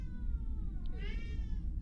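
A cat meows once, close and clear, in the corner of a room for echo, rising and falling over a steady low rumble of background noise.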